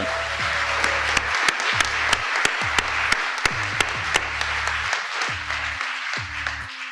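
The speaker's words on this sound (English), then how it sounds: "So we should give them a round of applause, the people." A room applauds the White House staff at a Labor Day event in Washington DC, a sustained round of clapping with a few sharp, louder claps standing out near the listener, over low background hum.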